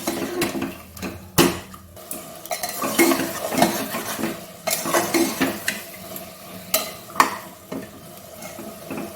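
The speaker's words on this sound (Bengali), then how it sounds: "ভালো করে মটর দিয়ে ভালো করে কষিয়ে নিই।" Peas being stirred and sautéed in spice masala in a pan for a goat-fat ghugni, with repeated scraping and clanking of a utensil against the pan over a soft sizzle, close and alone without speech.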